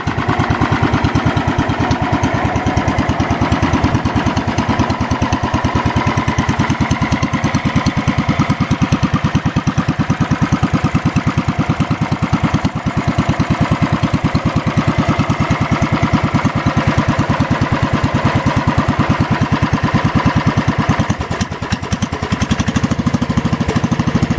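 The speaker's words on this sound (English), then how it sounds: "we had a very good startup of this Kohler" A Kohler engine on a 1969 Wheel Horse Charger 12 lawn tractor runs steadily at idle for the whole stretch, a continuous loud mechanical drone with no voices.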